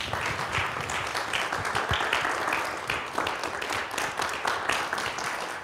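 Church audience applauding after a Christmas play, a sustained, fairly even wave of clapping from many people that carries on for several seconds with little talk.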